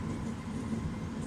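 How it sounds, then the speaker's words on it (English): A train rolling past in Berlin, a steady low rumble held for a moment at moderate distance with no voices. "There's a train coming."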